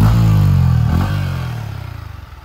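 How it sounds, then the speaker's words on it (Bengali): Yamaha MT-15 BS7 motorcycle exhaust revving close by, a loud burst of throttle that peaks and then settles into a pulsing, fading idle burble. "দেখেন এক্সস্ট সাউন্ড"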